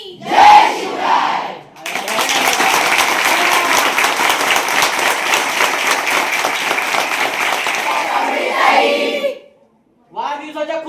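A large crowd of school students bursts into loud, sustained applause and cheering at a birthday celebration, preceded by a brief shouted voice and ending abruptly before another voice resumes.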